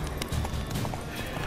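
A horse galloping in The Witcher 3, a rapid clip-clop of hooves running steadily under a busy game soundscape, moderately loud throughout the short stretch.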